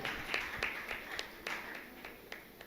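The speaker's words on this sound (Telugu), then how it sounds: "గట్టిగా చప్పట్లు కొడదామా?" Audience clapping at a church gathering, a scattered series of hand claps at an uneven pace, moderately loud over a hum of room noise.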